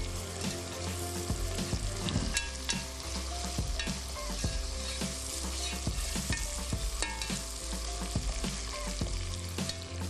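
Onions frying hard over high heat while chicken biryani is cooked, giving a loud, steady sizzle with repeated stirring scrapes and clinks all the way through.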